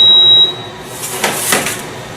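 A steady high-pitched electronic beep sounds from a Cres Cor QuikTherm oven at 325 degrees as a load reminder, about half a second, then cuts off, followed by soft rustling and shuffling nearby.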